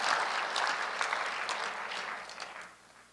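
Congregation applauding during a sermon at a fasting prayer gathering, a broad, steady roar of many hands that fills the room and slowly fades toward the end.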